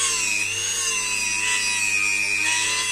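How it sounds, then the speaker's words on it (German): An angle grinder flattens rivet heads on a multiplier fishing reel, giving a loud, steady, high-pitched metallic whine that runs continuously without pause. "Ich mache es mir dann ein bisschen einfacher und flex den Kopf einfach gerade bzw. flach"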